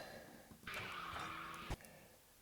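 Sound effect imitating a car handbrake lever being pulled, a short rasping ratchet-like scrape lasting about a second and ending in a sharp thump, faint and isolated.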